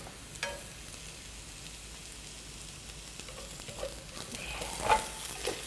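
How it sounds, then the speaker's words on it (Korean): Goat bulgogi stir-frying in a pan with freshly added mushrooms and onion, a faint, steady sizzle with soft scraping and stirring knocks, louder near the end, with no talking. "이렇게 해서 같이 한번 볶아주시고요"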